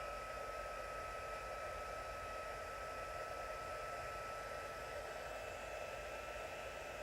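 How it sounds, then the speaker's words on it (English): A handheld heat tool used for stamping crafts blows hot air in a constant, close, even whoosh with a faint high whine, steady from start to finish with no talking. "So I'm going to use my heat tool."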